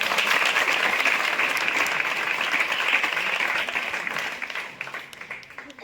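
Sustained applause from an audience at a felicitation for a coaching class director and teacher, dense and even clapping that fades toward the end.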